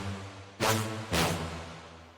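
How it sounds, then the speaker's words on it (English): Two short, bright synth horn stabs from the Rampage preset pack hit in quick succession over a low sustained synth bed, each punchy and loud, ringing briefly into a drum and bass style mix. "the headaches horn stab"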